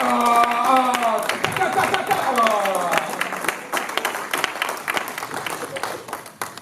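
A church congregation at a worship service in Lyon, France breaks into sustained applause. A voice rises over the crowd at first, and then steady clapping fills the room.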